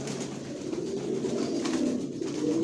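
Racing pigeons in a loft give a steady, low cooing murmur that runs throughout, the calls overlapping into a continuous drone at close range.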